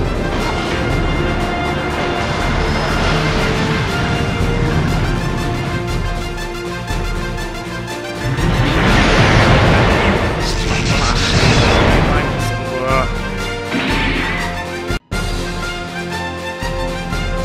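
A robot's main cannon firing in a Super Robot Wars Z battle scene: a broad roaring blast swells midway and then fades, under a dense, continuous musical score.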